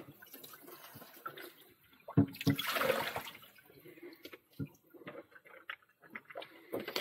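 Warm water runs through the tubing of an IV arm task trainer, a brief rushing gush in the middle surrounded by small drips, trickles and light clatter.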